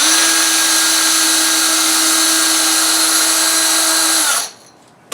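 A rotary tool with a bottle bit sands the edge of a glass bottle, giving a steady, loud, high whine that holds for about four seconds and then cuts out as the tool stops.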